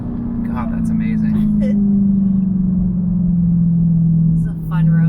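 Dodge Challenger fitted with polyurethane differential bushings driving a twisty road, its engine a steady loud low drone with rising and falling pitch through the corners, a voice talking over it throughout.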